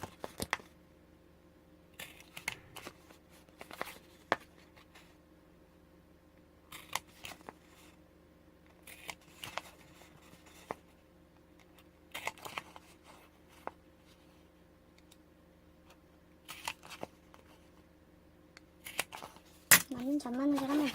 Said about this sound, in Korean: 이거에 맞춰서 하나하나 일단 타공을 뚫어봅시다